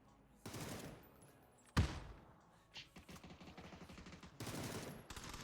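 Gunfire in an online shooter game, bursts of rapid automatic fire alternating with single sharp shots and a louder blast, close and fairly loud, with a voice briefly audible between bursts.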